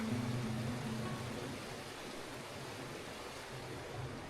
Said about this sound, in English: we're waking up next to that same creek, to that same beautiful sound of flowing water